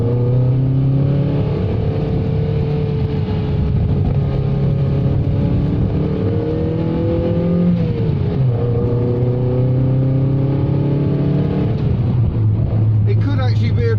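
Matra Murena engine running, heard from inside the cabin with the engine cover off: a loud, continuous droning hum whose pitch rises and falls as the revs change, with a shift around the middle.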